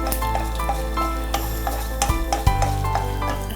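Dried red chillies sizzle in a teaspoon of coconut oil for a spicy mango chutney, with steady frying hiss and repeated clinks of a spoon stirring the pan throughout.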